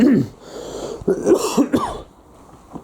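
A short cough at the start, followed by a voice talking and a couple of smaller throat noises.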